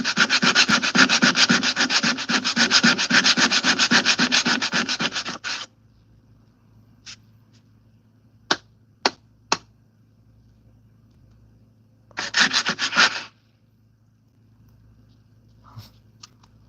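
Steady, dense sanding strokes scrape continuously across a car body panel for several seconds, then a few sharp taps, and a second brief burst of rubbing.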